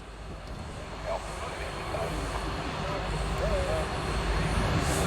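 A Boeing C-17A Globemaster III military jet airlifter flies a display at an air show, its engines giving a steady, broad distant roar that swells slightly, with voices faintly audible beneath.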